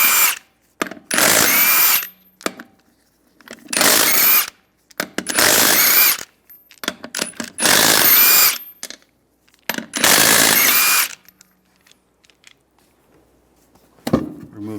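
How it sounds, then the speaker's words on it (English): A power tool fitted with a 22mm socket removes the lug nuts from the wheel of a 2007-2013 Chevrolet Silverado 1500. It fires in five loud, whirring bursts of one to two seconds each with short gaps between them, then gives one brief final spurt. "take the lug nuts off."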